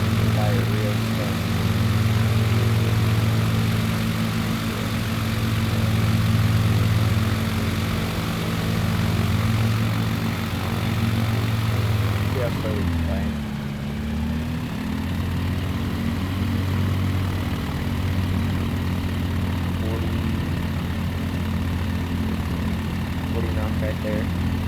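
A STOL propeller plane in Microsoft Flight Simulator 2024 drones loudly and steadily, its engine tone dipping briefly midway as power changes before settling back, with someone talking over it.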